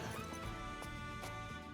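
Horse indoors in the Fire Emblem Engage video game: a shrill neigh over hard hoof clops and thuds inside a building, loud and close over a dense game soundtrack.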